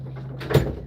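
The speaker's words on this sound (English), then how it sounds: "My dog has learned to open door handles. He straight up opens door handles." A dog working a door handle, giving a short low rattle and clunk as the latch releases, with a brief thump near the middle, close and fairly loud, alone without talk.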